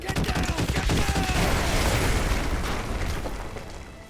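Artillery strike in the Modern Warfare 2 Remastered campaign: a loud barrage of booming explosions hits close in a dense, rumbling burst, then rolls off into a long fading roar.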